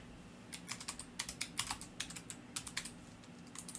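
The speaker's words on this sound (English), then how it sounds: "I can type." Someone types on a computer keyboard nearby, a quiet run of quick, irregular key clicks in short bursts with small gaps, over a faint low hum and no talk.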